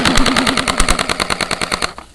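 A rapid burst of airsoft gunfire during an airsoft battle: a long string of quick, evenly spaced pops, close and loud, fading toward the end.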